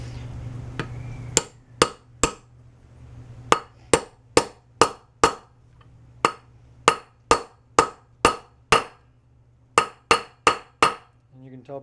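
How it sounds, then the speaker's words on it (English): A mini bike wheel bearing is driven in with a hammer striking a 26mm socket: a steady run of about twenty sharp metallic clinks, close and evenly paced, with brief pauses, the tone rising slightly toward the end. "And to drive this in, we're just using a socket."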